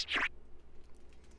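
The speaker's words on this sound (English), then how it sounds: "this other open hat named Oxy." An open hi-hat sample named Oxy, more of an effect than a plain hat: one short, bright, noisy burst at the very start that quickly thins into a faint, scattered hiss, heard alone.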